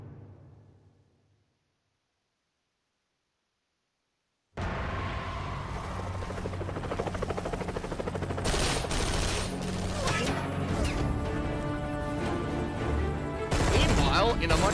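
Sniper rifle fire in the video game Metal Gear Survive: after a brief silence, a dense, loud burst of gunfire and crashing game sounds runs continuously, with sharper shots near the end.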